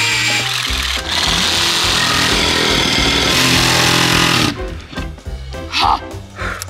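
Cordless battery jigsaw cutting through material, a loud continuous buzzing saw noise for about four and a half seconds that then stops, leaving brief clattering and handling sounds.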